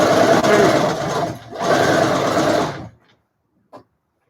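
A sewing machine stitching a seam on a fabric mask whirs loud and close in two sustained runs with a brief slowdown between them, then stops, leaving near silence and a single small click.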